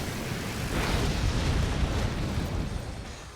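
Searing Shot fire attack in a Pokémon battle game, a loud sustained fiery blast with a roaring explosive rumble that swells and slowly fades.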